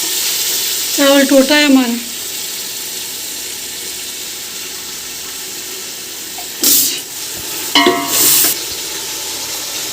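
Rice sizzles and fries in hot oil with garam masala for a simple pulao, a steady low crackle broken by a few louder bursts of stirring or added ingredients, with someone speaking briefly over it.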